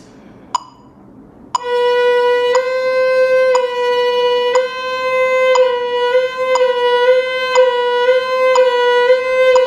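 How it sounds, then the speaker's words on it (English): Violin trill exercise at 60 BPM against a metronome: a steady sustained tone with regular, evenly spaced clicks about once a second, close and clear, no talk. "All of the exercises that I am about to give you are aimed at building up the speed of your trill."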